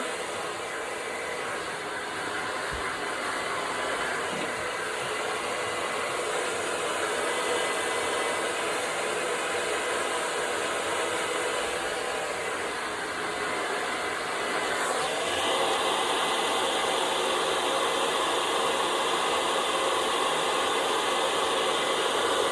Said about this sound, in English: moving my brush in my hands, moving the blow dryer at the same time